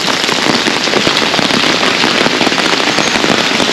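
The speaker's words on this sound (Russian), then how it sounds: "Мама говорит всегда, что если пузырики, это будет хороший дождь и долгий." Heavy rain pours steadily on a seaside promenade in Lazarevskoye, Sochi, a loud, dense hiss with drops pattering close by and no voices.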